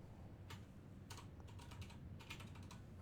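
Keys on a computer keyboard tapped to type into a search bar, heard as a few quick, faint clusters of clicks over a low steady hum, with no one talking.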